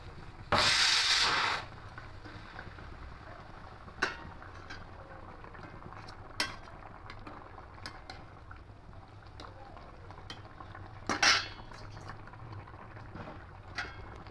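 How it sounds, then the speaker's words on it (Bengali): A pot of fish curry broth bubbles at a faint, steady simmer, broken by a loud rustling burst early on and a few sharp clatters and knocks from handling the pot and its lid. "দেখুন ঝোলটা ফুটছে ভালোই"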